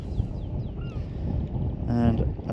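Birds circle a hovering drone over open water called the Haven, their short cawing calls close and repeated above a steady background of wind and motor hum, with a brief louder call near the end.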